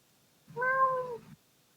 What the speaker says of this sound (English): all of you guys can hear the soft mewing of multiple cats on the other side of this door